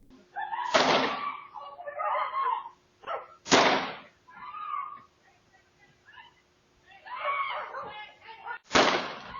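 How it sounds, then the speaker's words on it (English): Three sharp, loud gunshots spaced a few seconds apart ring out from a distance in the middle of the day, picked up by a doorbell camera, with muffled voices talking between them. "3 gunshots rang out."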